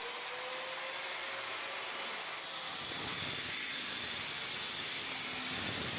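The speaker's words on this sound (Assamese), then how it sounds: "এনেদৰে 2-3টা মেচিনেৰে কাম চলি আছে, আপোনালোকে চাব পাৰে।" Electric wall cutting machines cut grooves for concealed wiring, a steady loud grinding whine with a broad hiss that carries on throughout, as several machines run together on a building site, with no talk.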